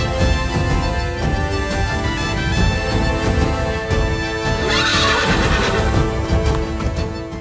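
A horse neighs loudly and repeatedly while hooves clip-clop steadily, set against a sustained musical backdrop in a dramatized Ramayana epic scene, with no talking.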